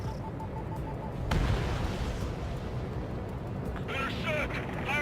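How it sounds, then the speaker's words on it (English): Bombs dropping in the Ace Combat 7 flight combat game, a dull deep boom around the first second and a half rolling into low rumble beneath jet noise, with radio voices talking over it. "Bombs away."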